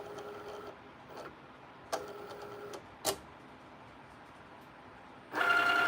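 A Cricut electronic cutting machine works through a cut with short whirring motor bursts separated by quiet pauses, then a louder sustained run at the end, with no voices.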